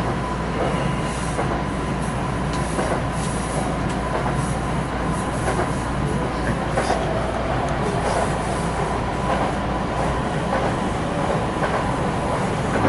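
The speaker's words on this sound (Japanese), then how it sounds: "山登りです。電車の勾配です。" A Kintetsu electric train climbs a mountain gradient in Nara, with a steady, dense rumble of wheels and motors heard from inside the car, continuous and fairly loud with faint rhythmic clicks throughout.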